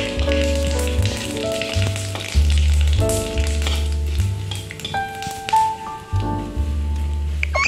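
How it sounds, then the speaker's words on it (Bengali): Dried red chillies, bay leaf and cumin seeds crackle and sizzle as they temper in hot oil in a kadai, a steady frying hiss with a sustained tonal hum and occasional spoon scrapes. "কড়াই দেখো আমি শুকনো লঙ্কা দুটো আর তেজপাতা সাদা জিরে ফোড়ন দিয়ে দিলাম"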